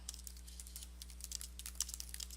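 Quick, light clicks of fingers typing on a computer keyboard, an irregular stream of faint keystrokes over a steady low electrical hum.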